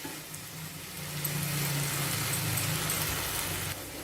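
Chopped tomatoes frying in a pan for drumstick curry: a steady, close sizzle with a low hum underneath, fairly quiet and even throughout, swelling slightly midway and easing off at the end, with no talking.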